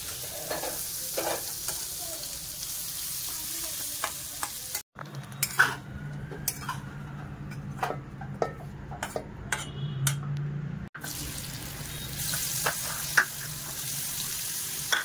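Mixed vegetables sautéing in a little oil for veg pulao: a bright, hissing sizzle with frequent scraping and clinking of a metal spoon against the pan, running in several continuous stretches.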